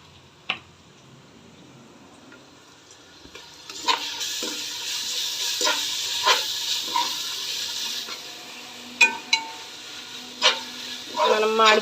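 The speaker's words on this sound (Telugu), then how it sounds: "ఇప్పుడు ఇందులో అల్లం వెల్లుల్లి పేస్ట్ వేసుకుందాం." Ginger garlic paste hitting a pan of golden fried onions for a spicy mutton soup, with a steady sizzle and hiss while a spoon stirs and scrapes in occasional sharp knocks.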